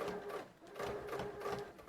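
Sewing machine running steadily in a short back-stitching pass while a junk journal is made, a close, even whir with slight changes in speed and no talking.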